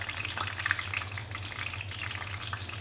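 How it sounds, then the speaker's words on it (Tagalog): Fish frying in a pan, a steady, close sizzle of hot oil with constant crackling hiss, continuous throughout with no talking over it. "luto na ng ating pritong isda"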